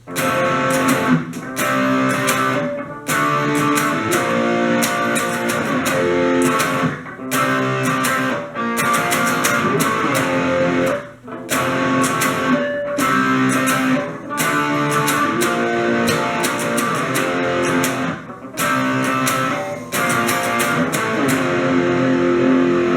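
Strummed distorted electric guitar plays the driving chorus pattern of a song with brief pauses between phrases, loud and continuous.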